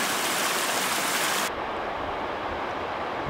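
Rushing water from a waterfall on a mountain trail near Mount Tyndall makes a steady, broadband roar. It is loud and continuous throughout, briefly brighter at first, then slightly muffled, with no voices.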